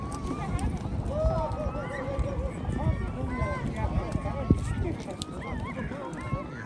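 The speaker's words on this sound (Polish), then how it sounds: "look, this horse" A herd of horses on the Mongolian steppe ahead of a race with hundreds of horses and riders, hooves clopping busily under repeated neighs and whinnies, with people talking over the dense, lively din.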